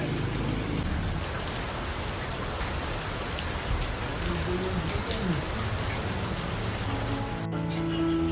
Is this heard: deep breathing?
no